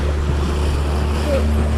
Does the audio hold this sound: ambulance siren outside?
no